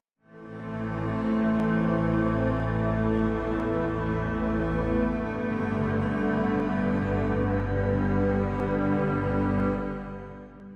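A lush, sustained sampled string ensemble plugin, Alt Strings by Decent Samples, plays slow chords, full and warm with a soft low end, swelling steadily before fading out at the end.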